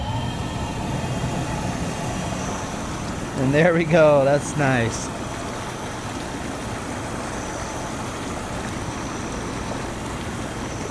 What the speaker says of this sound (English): the air is pushing up through those holes, creating the bubbles